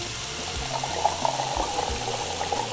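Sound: water pouring in video game Cooking Simulator

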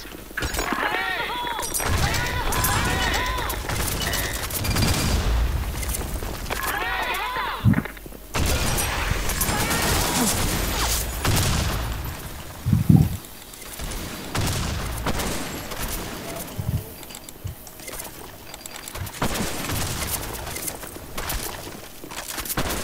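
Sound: gunfire in a sniper shooter video game

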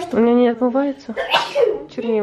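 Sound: sneeze

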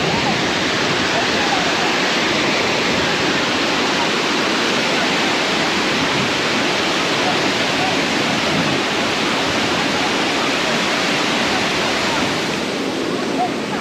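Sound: Thiruparappu waterfall rushing water

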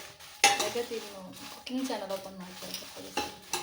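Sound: roasting red chillies in a little oil

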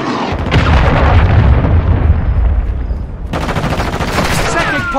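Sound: cruise missile explosion in video game Call of Duty Modern Warfare 2

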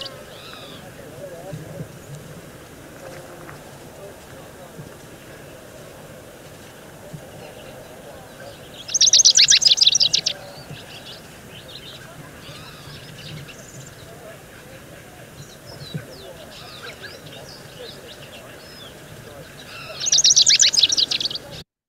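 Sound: Rufous-crowned sparrow singing

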